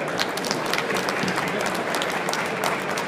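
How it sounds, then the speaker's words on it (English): Dense, steady applause from the audience at the Adventure Stage of a London motorcycle show, many hands clapping together at a constant level with no speech over it. "So if we could give Rhys a round of applause, please."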